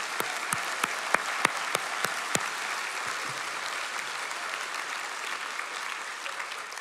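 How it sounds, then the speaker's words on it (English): A school competition audience at closing remarks gives a sustained round of applause. A few sharp, loud individual claps stand out early against a dense, even wash of clapping that continues unbroken for almost seven seconds. "huge round of applause."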